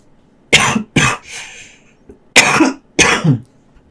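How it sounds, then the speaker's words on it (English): A person coughs several times in short, harsh bursts, two quick coughs, a pause, then two more, close to the listener. "I'm going to cough 1 second."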